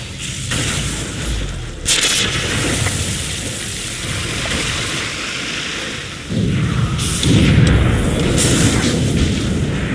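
Dota 2 esports match with towers under attack, a dense roar of booming impacts and rumbling battle noise, loud and continuous with heavier surges near the end, no talk.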